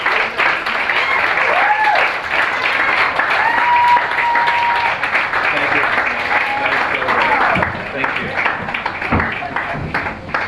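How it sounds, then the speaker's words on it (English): Applause for a stand-up comedian at a Brooklyn comedy show, a steady wash of clapping from the crowd lasting ten seconds, thinning toward the end, with a voice speaking over it. "Give her one round of applause right now, if you would"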